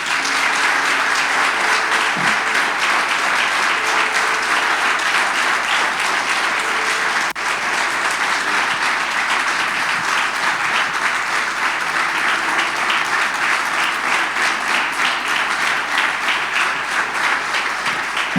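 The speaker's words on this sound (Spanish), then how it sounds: "con un fuerte aplauso." A church congregation giving a loud, sustained round of applause to welcome a guest pastor, thick and even clapping from many hands filling the room for the whole stretch.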